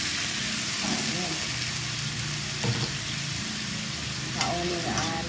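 Sliced chayote sautéing in a pan gives a steady, even sizzle, with a few scraping clinks as it is stirred, close by and fairly loud.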